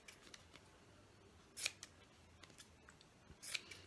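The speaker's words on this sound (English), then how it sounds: "We're going to cut the corners off like this." Scissors snip the corners off paper or card for a hidden-box book journal, giving two crisp, louder cuts among lighter clicks and rustles, quiet and close.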